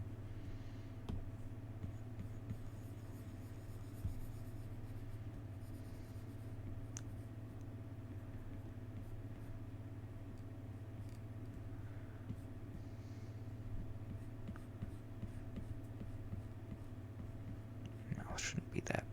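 A pencil sketches a Superman drawing on paper, making faint, soft scratching strokes over a steady low room hum, quiet throughout.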